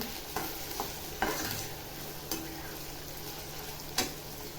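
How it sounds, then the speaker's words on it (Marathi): Onion and mild green chilli fry in oil for a whole masoor curry, a faint steady sizzle broken by a few sharp spatula taps and scrapes against the pan. "कांदा टाकल्यावर बघा मिरची टाकते कमी तिखटवाली मिरची आहे कांदा चांगला असा फ्राय करून घ्यायचा"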